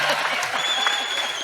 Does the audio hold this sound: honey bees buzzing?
no